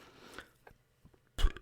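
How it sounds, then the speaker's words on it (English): A single short, fairly loud burp erupts near the end after a quiet stretch of faint noises, with no talking. "I'm burping a little bit"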